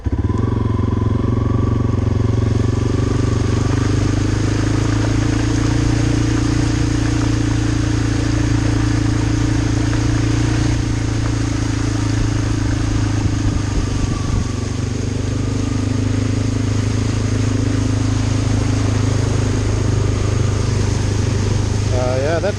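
A motorcycle engine putters steadily at low, even revs while wading through deep hurricane floodwater in Katy, Texas, the water up to the engine case, a continuous droning hum with faint splashing and clatter throughout.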